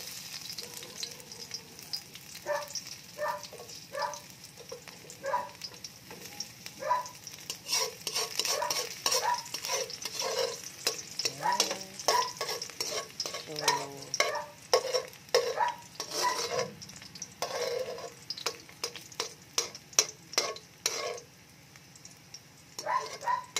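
Garlic frying in oil in a pan for egg sarsiado, a continuous soft sizzle punctuated by irregular scraping and clinking strokes of a spatula stirring against the pan, close and clear, with a few faint bits of voice in the background.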